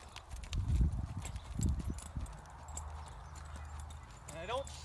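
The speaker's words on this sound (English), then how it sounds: "I'm just going to trot around a little bit" Horse hooves clip-clop at a trot in a riding session, rhythmic and fairly close, with low thuds and a brief whinny-like sweep near the end, while a rider talks intermittently over it.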